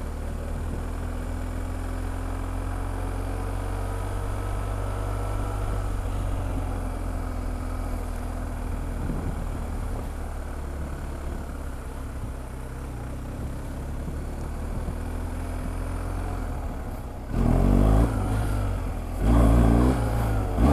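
A motorcycle engine drones steadily at moderate volume during wheelie practice in a parking lot, then gives a couple of sharp, louder throttle bursts near the end.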